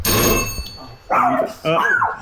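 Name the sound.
house doorbell ringing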